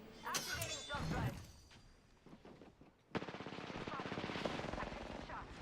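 Rapid automatic gunfire in the battle royale game Apex Legends, a loud sustained burst after earlier scattered shots and game effects, with a voice talking over parts of it.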